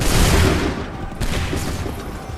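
A dense, loud musket volley crackles in the Assassin's Creed 3 video game as many guns fire together, followed by a second rolling burst of battlefield gunfire.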